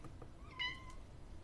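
A house cat gives a single short, faint meow indoors against quiet room hiss, with no speech.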